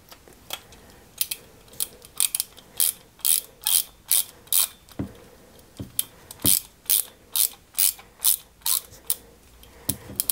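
Small screws being driven into a 1961 London Routemaster RM857 model bus kit make a run of quick, close ratcheting clicks in short bursts, with a brief pause midway and no talk.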